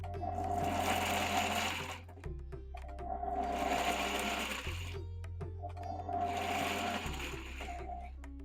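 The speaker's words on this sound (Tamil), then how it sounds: "சேர்த்துட்டு இதை வந்து பல்ஸில் ஓட்டுங்க" An electric mixer grinder pulses coarsely through coriander stems in three loud, steady motor bursts of about two seconds each, with brief dips between them and no talking.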